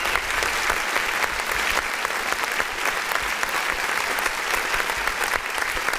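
A steady, dense applause sound effect from a clap button runs at even loudness throughout, many hands clapping close together with no talking over it.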